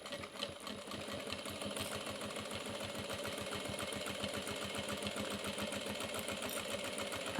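A sewing machine back stitching along the side of a fabric crossbody bag at a long stitch length, a steady close mechanical chatter running without pause throughout.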